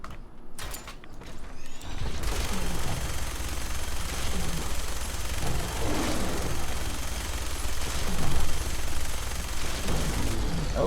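Vanilla minigun in the Fallout video game firing at Deathclaws in the Glowing Sea: a brief mechanical clatter as it spins up, then about nine seconds of dense, loud, continuous rapid fire with no speech.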